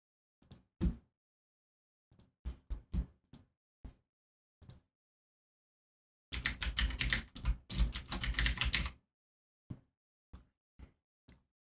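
Typing on a computer keyboard in short, isolated bursts of keystrokes, then a dense, rapid run of clicking, then a few more scattered taps, close and clear against a silent background.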